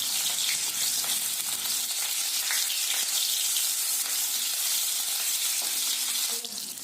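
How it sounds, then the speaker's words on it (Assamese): Chopped onions frying in hot oil in a home kitchen, a loud, continuous close-up sizzle and crackle that swells as the onions hit the oil, with no talking. "তেল গৰম হোৱাৰ পাছত আমি কাটি থোৱা পিঁয়াজখিনি দি দিম"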